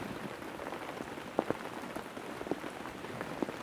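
Rain falls steadily at Willesley Lake, a carp fishing water, as a soft continuous patter with a few louder drops landing nearby, fairly faint overall and with no voices.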